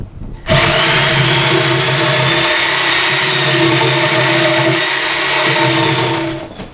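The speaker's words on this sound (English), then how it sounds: "All right, we're going to finish the cut with the Sawzall." A Sawzall reciprocating saw finishes a cut through an old barn beam, running as one loud, steady motor whine with a rasping blade for about six seconds before winding down.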